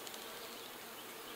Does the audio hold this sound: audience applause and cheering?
no